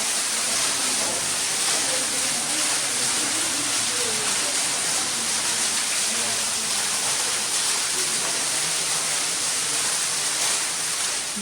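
Steady, dense roar of a waterfall inside a cave area, constant and loud throughout with no breaks, a broad hiss like heavy rain filling the space.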